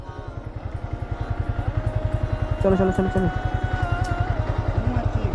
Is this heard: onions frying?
no